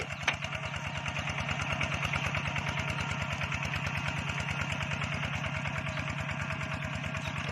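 A Hongte walking tractor fitted for mud ploughing runs steadily nearby, its engine chugging in an even, rapid rhythm at constant loudness with no pauses.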